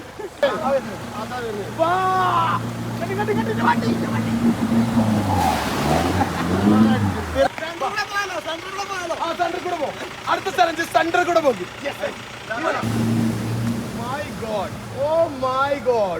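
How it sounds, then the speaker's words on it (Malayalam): A lifted Mahindra Bolero off-roader ploughs through a water crossing, its engine droning steadily while water surges and splashes loudly in the middle, with people talking over it throughout. "വണ്ടി വലിച്ചു പോണതാ. ഒരു തോണി പോലെ പോയി."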